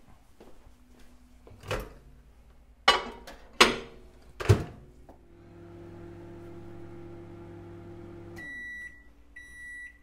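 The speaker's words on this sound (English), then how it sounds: "Ni dalam microwave." A microwave oven's door thunks shut a few times, then the oven hums steadily for several seconds before a run of short electronic beeps.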